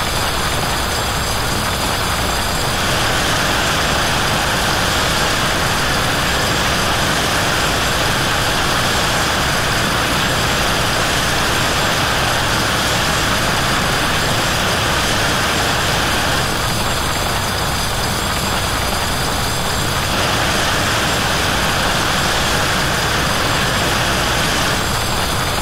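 Steam blower on a New York Central J-3a Dreyfuss Hudson locomotive in Train Simulator 2020, a loud, steady roaring hiss that runs unbroken throughout.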